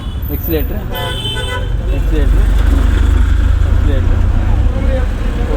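A learner's car at a driving school pulls away as the accelerator is pressed, a low engine rumble building and holding steady while an instructor keeps talking over it.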